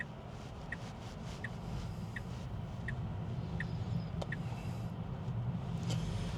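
A Tesla car driving itself on Full Self-Driving, heard as a steady low road and cabin rumble with a faint repeating chime ticking at regular intervals and no voices.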